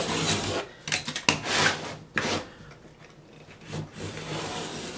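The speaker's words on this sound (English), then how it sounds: "Trim it with your razor knife." A razor knife trims the overhanging edge of wood veneer on a tabletop, making dry rasping scrapes in uneven strokes, close and alone without any talk.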